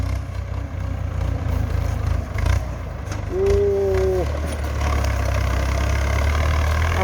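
A Ford tractor clears tree stumps with its engine running close by, a loud, continuous low rumble that swells slightly partway through, with a brief whining tone over it.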